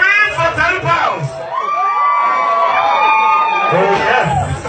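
Party crowd at a live gay party in Jamestown, Accra, Ghana, screaming, whooping and cheering loudly and continuously, with shrill yells rising and falling across the whole stretch.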